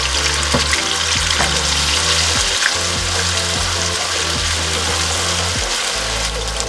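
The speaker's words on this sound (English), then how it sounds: "and I have one onion, medium-sized onion puree. I'm going to add it to the oil." Onion puree frying in hot oil: a steady, loud, broadband sizzle continues without a break, with faint low hum and small clicks beneath it, and no one talking.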